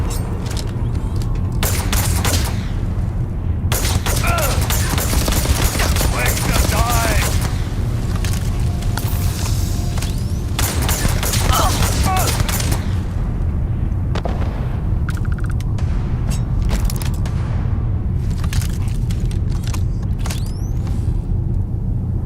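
Booming explosions and bursts of gunfire from the video game Starfield, dense and loud throughout, with shouted voices mixed in.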